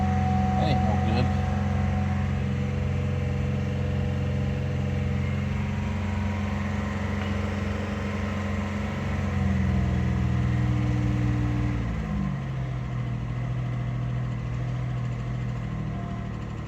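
A car called the Intimidator runs with its engine revving steadily at high rpm rather than idling, a loud continuous mid-pitched drone that shifts pitch slightly near the end, with people talking over it.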